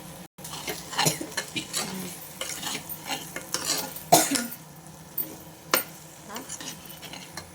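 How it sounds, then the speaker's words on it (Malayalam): Fried prawns stirred into sizzling masala for a prawn roast, with a spoon scraping and clattering against the pan in repeated strokes over a steady low frying hiss. "ഇനി നമുക്ക് നമ്മൾ വറുത്ത് വെച്ച പ്രോൺസ് ഇട്ട് കൊടുക്കാം."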